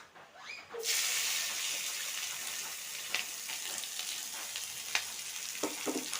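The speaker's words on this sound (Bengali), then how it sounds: "আর এই পেঁয়াজটাকে ভালোভাবে ভেজে নিব" Sliced onion coated with turmeric, cumin powder and salt hits hot oil in a wok with a sudden loud sizzle that holds steady, broken by a few brief stirring scrapes and clinks.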